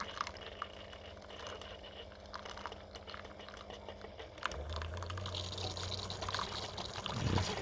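Boston's Best vanilla hazelnut coffee pours and trickles steadily at close range, with a low gurgling stream building toward the end and no voices.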